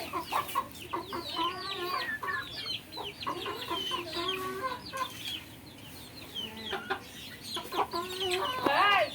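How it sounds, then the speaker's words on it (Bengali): Chickens and chicks on a village farm cluck and cheep repeatedly and close by, with bright overlapping calls throughout and a louder burst near the end. "দেখতেই পাচ্ছ, এই যে মুরগির বাচ্চা"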